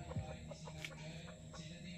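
A rooster and hen step out of their coop, giving soft clucking calls and a short crowing note amid steady background noise.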